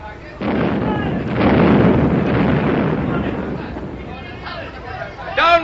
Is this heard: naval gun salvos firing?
yes